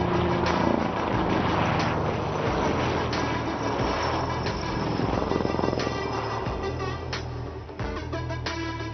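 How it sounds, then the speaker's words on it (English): HAL helicopter flying display at Aero India 2021, a continuous loud rotor and engine roar with rhythmic blade thumping, sustained throughout at a steady distance over open-air ambience. "The display is being performed by HAL test pilots, Group Captain Rajesh Verma and Wing Command"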